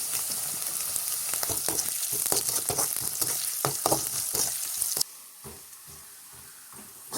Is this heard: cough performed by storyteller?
no